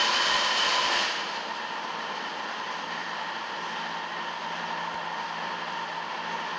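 A restored metal planer makes a light cutting pass, giving a loud, steady mechanical whir and hiss that drops to a slightly lower level after the first second and then holds evenly.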